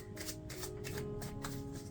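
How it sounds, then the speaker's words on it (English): Playing cards riffled through an overhand shuffle, a soft papery flutter repeating in quick even bursts, close and steady without any talking. "it's really important to do a overhand shuffle"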